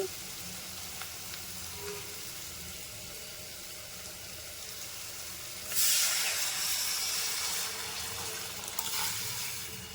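Water pours into a cooking pot of rice with a sudden rush of bright splashing that starts midway and continues steadily. A quiet, hissy background comes before it.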